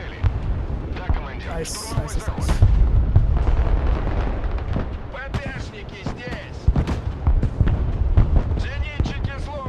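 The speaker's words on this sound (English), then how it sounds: "And here comes some cruise missiles." Cruise missile strikes exploding in the video game Broken Arrow, heavy booming blasts with rumbling low end and sharp cracks over about ten seconds, someone talking briefly over the barrage.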